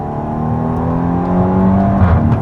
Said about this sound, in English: those gear changes, man. That very deep DSG fart.